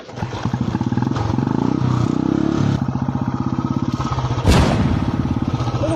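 Royal Enfield Bullet motorcycle with a steady, loud thumping engine idle and pulsing beat throughout, a brief clattering burst near the end.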